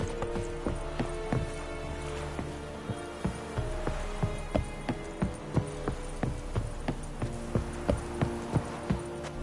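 Roach, the horse in The Witcher, gallops in a steady clip-clop rhythm of hoofbeats over a constant ambient game backdrop and soft music.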